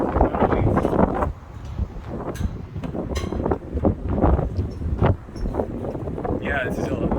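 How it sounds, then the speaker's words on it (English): Gusty wind buffets the microphone at the historic Miami railroad bridge, a rough rumbling roar that surges and drops unevenly, with a voice talking beneath it. "the wind is blowing"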